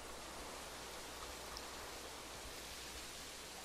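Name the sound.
rain in the video game Minecraft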